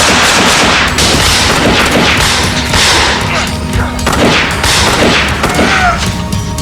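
Rapid Uzi gunfire crackles through a loud, dense movie action scene, bursts piling up continuously over shouting voices and other battle noise.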